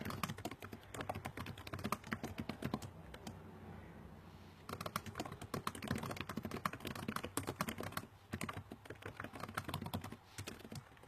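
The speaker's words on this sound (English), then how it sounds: "I'm done typing." Typing on a computer keyboard at a desk, rapid clustered key clicks in bursts with a brief pause midway, close and fairly quiet.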